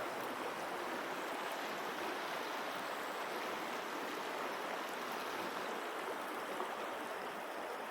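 Steady rushing flow of the Paria River in Arizona, a broad continuous wash of cold stream water running close by with no voices, even and unbroken throughout.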